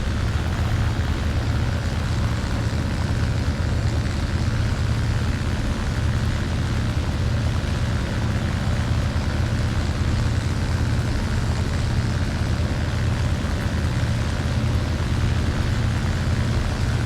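Steady propeller engine drone of a biplane in a video game, a continuous low buzzing hum that holds at an even level from start to finish with no talk over it.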